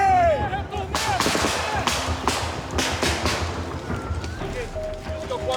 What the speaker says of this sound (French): Et un légionnaire assure des tirs de couverture.